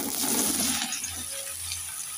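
Cut bottle gourd hits hot oil tempered with black cumin, giving a loud crackling sizzle that gradually settles into a softer, steady frying hiss.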